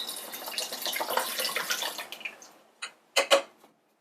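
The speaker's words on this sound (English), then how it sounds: "So first what you're gonna do is you're gonna start pouring in the liquids. So I'm gonna start by putting in the 5-hour energy." Extra-strength 5-hour Energy drink is poured into a container, a steady splashing stream for a couple of seconds that tapers off, followed by a few separate drips or clinks.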